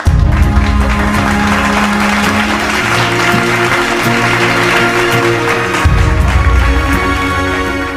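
An audience breaks into loud, sustained applause to welcome a speaker onto the stage, dense clapping continuing steadily for several seconds over a faint musical backdrop.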